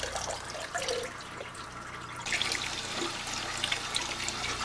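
Water pours from an emptied fish tank into a bucket in a steady, close, splashing stream that grows slightly louder and fuller partway through.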